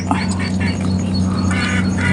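Ducks over a fishpond quack repeatedly in short nasal bursts, moderately distant, over a steady low hum of background noise.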